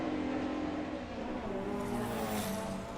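A Volkswagen Beetle drag racing car launches off the line at a drag strip with a small wheelie, its loud, continuous engine roar rising in pitch as it pulls away.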